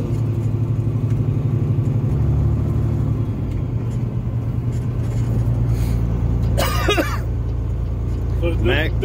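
A heavily loaded Peterbilt truck with an 18-speed transmission runs with a loud, steady diesel rumble through a missed gear change. A short grinding clatter comes near the end, and someone talks over the engine.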